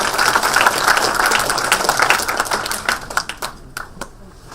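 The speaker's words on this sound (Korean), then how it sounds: "따뜻한 박수로 맞이해 주시기 바랍니다" A dense burst of audience applause at a Korean party floor-leader candidates' policy speech event, loud and sustained before thinning out toward the end.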